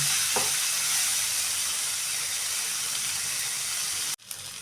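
Tomato chutney ingredients fry in a pan with a loud, steady sizzle and hiss that runs continuously, with a faint clink early on, then the sizzle cuts off abruptly near the end before a quieter sizzle resumes.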